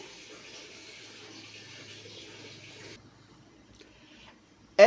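Water pours steadily into a pan of patola (sponge gourd) cooked with sardines, a soft continuous splashing stream for about three seconds, then quiet with a faint clatter at the end.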